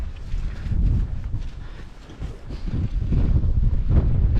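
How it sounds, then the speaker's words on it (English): Strong wind buffets the microphone in a steady, heavy rumble on a hill walk toward Windy Gyle, with no voices. "Right, well, it's still really windy."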